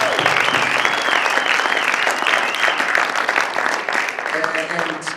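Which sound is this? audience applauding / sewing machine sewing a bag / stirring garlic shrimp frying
audience applauding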